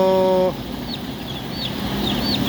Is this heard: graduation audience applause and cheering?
no